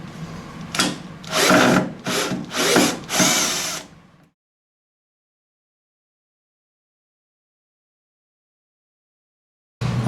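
Power tool removing the pedal from a pottery wheel, with five short whirring bursts in quick succession, then silence.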